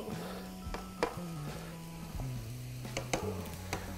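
Garlic, tomato and swordfish sizzle in a hot pan, a soft steady fry under a low hum, broken by a few sharp clinks and taps of a utensil against the pan.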